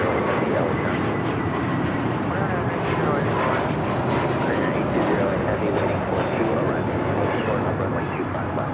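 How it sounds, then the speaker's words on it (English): A Hawaiian Airlines Airbus A321neo takes off from Los Angeles International Airport bound for Honolulu, its engines a loud, steady, broadband roar that holds evenly throughout. "A321neo taking off to Honolulu, Hawaiian Airlines 833"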